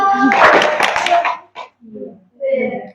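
A single sharp clap from a group of children in a school warm-up game during a handwashing and waste-sorting activity, following a burst of voices and followed by brief child chatter.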